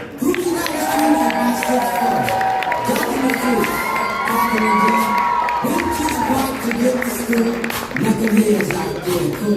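A comedy club crowd at the Tempe Improv during a New Faces of Comedy show cheers, whoops and claps steadily for the next comedian, a loud, dense roar of many voices that continues the whole time with a few higher shouts rising above it.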